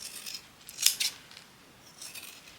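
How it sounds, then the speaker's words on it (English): Scissors snipping small pieces of paper apart, a couple of quick crisp cuts close and quiet against near silence, with a softer snip near the end. "we are just going to snip them separately"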